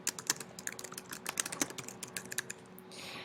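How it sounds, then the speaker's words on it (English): Rapid, uneven clicking of keys on a computer keyboard, close up, in bursts of quick taps for about three seconds with no voices. "so I'm going to type that in here."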